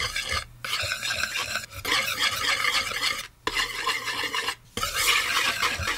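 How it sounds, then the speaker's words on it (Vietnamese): Dry batter mix of paprika, mustard and baking powder stirred in a bowl, with close, continuous gritty scraping in bursts and short pauses between strokes. "Sau đó thì mình trộn đều tất cả lên."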